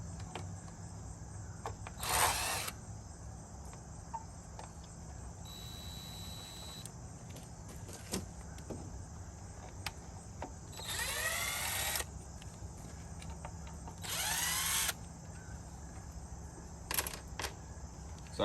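A power driver with a quarter-inch socket attachment removes T15 screws from a Jeep JK headlight in a few short, loud whirring bursts separated by quieter pauses over a steady background hum.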